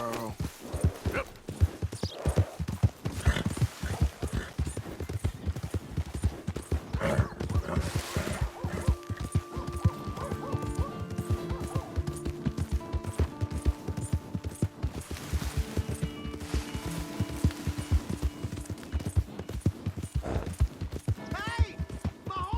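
Hooves clip-clop in a steady, rapid rhythm throughout in Red Dead Redemption 2, with occasional voices and mechanical clatter in the background.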